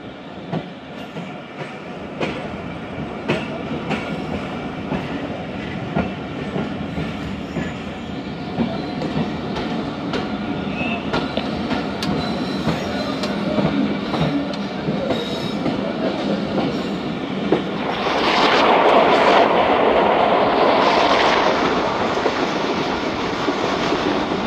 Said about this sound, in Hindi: अप्रोच कर रही है हमारी ट्रेन